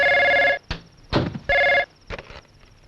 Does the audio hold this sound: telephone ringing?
yes